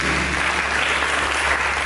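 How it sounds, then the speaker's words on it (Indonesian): Church congregation applauding during a sermon, a dense, even burst of clapping filling the short moment without pause and without talk. "Berikan tepuk tangan bagi Tuhan."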